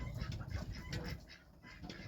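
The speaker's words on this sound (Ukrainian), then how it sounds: "Це в мене півень" A farmyard rooster of an unremembered breed kept with hens and quail, giving short clucking calls and rustles close by, with low rumbling handling noise underneath.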